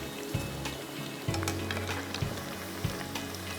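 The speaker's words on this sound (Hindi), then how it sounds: "अब मैं इसको एक और दफ़ा डालूंगी फ्राई करने।" Chicken pieces dropped back into hot oil for a second fry, giving a soft sizzle with a few splashy thumps as pieces go in.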